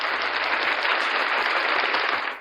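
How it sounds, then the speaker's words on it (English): An audience applauding, a dense, loud, sustained wash of clapping that holds steady for a couple of seconds before cutting off, with no voices over it. "let's give this a round of applause real quick"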